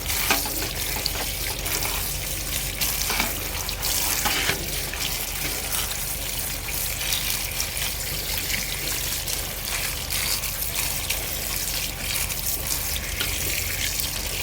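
Grape leaves rinsed one by one under a running tap, a steady close splashing and trickle of water into a sink that holds throughout without pause.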